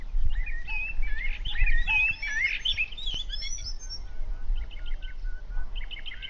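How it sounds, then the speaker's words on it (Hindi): Several small birds chirp and tweet in quick, overlapping high calls, fairly close, over a steady low background rumble. "फिर कुछ समय बाद पक्षी वहां आते हैं और आवाज करने लगते हैं।"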